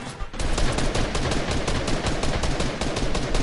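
Rapid, dense gunfire from a sniper in the Fortnite battle royale game cracks out in a loud, continuous burst of repeated shots after a brief quiet start, close and harsh throughout.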